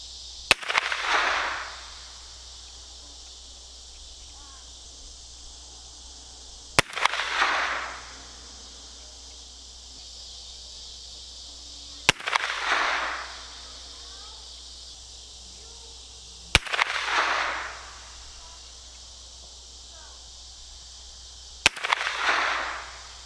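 A Winchester Model 72 bolt-action rifle fires a five-shot group at a target, each sharp crack followed by a brief decaying echo, spaced roughly five seconds apart with quiet between.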